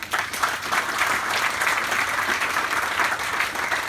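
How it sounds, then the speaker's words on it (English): Audience at a phonescoping lecture during Birdfair 2018 applauds steadily, a dense even patter of many hands clapping close by for a few seconds without pause. "Can I just give a round of applause for my good friend Rob"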